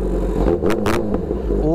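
A motorcycle engine in neutral runs close and steady with a low, throbbing drone, while a person talks over it.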